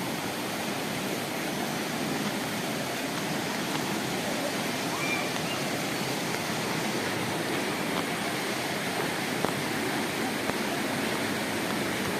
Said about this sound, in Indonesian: Oh, hampir nyampe kita di air terjun.